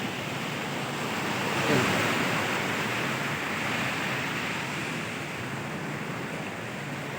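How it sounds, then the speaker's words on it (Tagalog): Strong sea waves break at the shore in Bucana, Nasugbu, Batangas, making a steady broadband roar with a slight swell partway through and no talking. "sobrang lakas ng alon"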